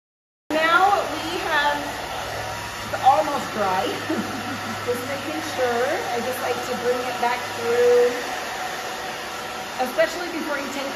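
A hair dryer blows steadily while drying a woman's short grown-out pixie cut, a constant close whoosh that runs the whole time under chatty voices talking over it.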